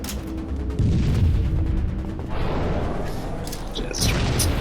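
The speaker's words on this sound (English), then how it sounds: "Jazz throws another grenade." Booming grenade blasts in a Halo 3 esports match, several heavy explosions in quick succession over a dense rumble of in-game action.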